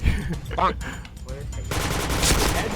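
Rapid bursts of water gun fire in a video game crackle in short volleys, with a faint voice underneath before a denser, louder spray of shots takes over.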